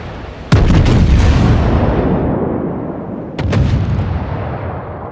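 The battleship Gneisenau's heavy naval guns fire in World of Warships: two loud, deep booming salvos about three seconds apart, each rolling into a long rumbling tail.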